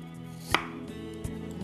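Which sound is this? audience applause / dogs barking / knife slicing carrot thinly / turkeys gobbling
knife slicing carrot thinly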